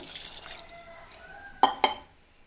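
A glass of water goes into a stuffed brinjal gravy in a cooker. The soft liquid wash is followed by two quick splashy plops near the end of the short burst.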